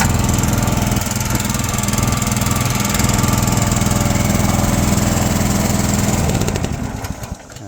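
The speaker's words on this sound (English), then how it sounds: "this is the RPM I run the engine at to do everything" A Nortrac trencher engine runs at its working RPM, a loud, steady, even mechanical drone that holds nearly throughout before easing off at the very end.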